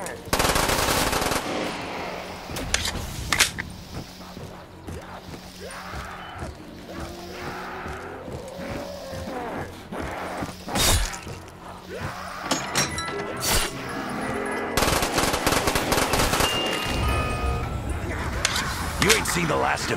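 Bursts of automatic gunfire from Call of Duty Black Ops 3 custom zombies, with dense rapid crackling volleys at the start and near the end and scattered shots between, close and loud over game sounds and a voice.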